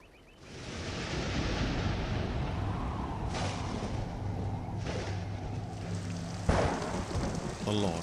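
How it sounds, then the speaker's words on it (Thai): Steady heavy rain pours down in a continuous hiss, with rolls of thunder swelling in the background and a sharper crack near the end. "ตลอดสัปดาห์นั้นมีฝนตกพรำตลอดเวลา"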